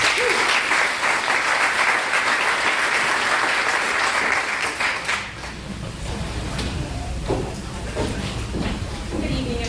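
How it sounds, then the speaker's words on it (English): An audience at a UC Merced public event applauds a speaker's introduction, heavy steady clapping that thins after about five seconds into scattered claps and room rustle, with murmured talk underneath. "please give her a round of applause"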